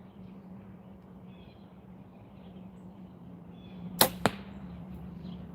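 A compound bow fires an arrow with a sudden sharp snap followed a split second later by a second crisp crack, rising over quiet outdoor background hum.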